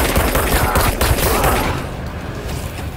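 Rapid bursts of gunfire from a weapon in the video game Control, a dense fusillade for the first half, then fading into a quieter tail.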